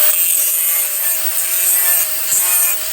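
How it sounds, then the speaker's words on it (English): A sander or flap wheel grinds a bevel along the edge of a metal workpiece for a pillar project, giving a steady, close, high-pitched abrasive whine that carries on without a break and with no talk. "So what he's doing there is putting a bevel on this piece"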